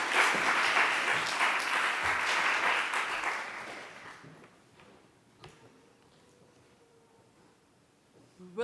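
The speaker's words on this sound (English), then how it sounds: "Please give a big applause to our next guest" An audience at a panel on the legacy of the Nuremberg trials applauds a guest with full, dense clapping that fades out after about four seconds. A quiet room follows, with a few faint clicks and knocks.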